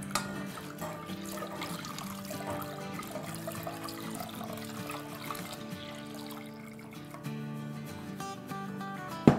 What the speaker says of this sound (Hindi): 4 कप दूध डाल देते हैं।